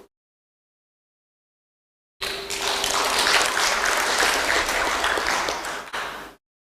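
A crowd bursts into sustained applause that runs for several seconds before tapering off and cutting out.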